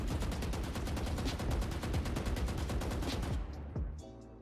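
Sustained automatic rifle fire in Valorant from holding the fire button: a rapid, even string of loud, close shots for over three seconds, then abrupt silence with a faint tail.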